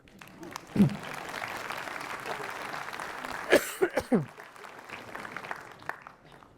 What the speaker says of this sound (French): Vous aviez le droit d'applaudir.